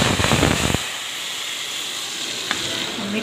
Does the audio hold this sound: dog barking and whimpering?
no